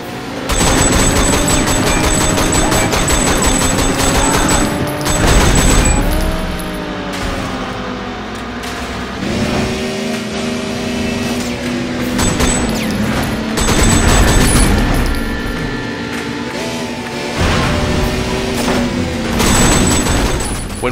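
Rapid bursts of gunfire crack over a revving, shifting car engine during a high-speed car chase in the video game Sleeping Dogs, loud and continuous with no talking.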